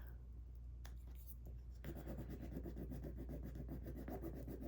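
A popsicle stick rubs a rub-on sticker onto fabric while a vintage lace and button sample card is being made. After a couple of isolated scrapes, it settles into a close, steady, rhythmic scratchy rasping.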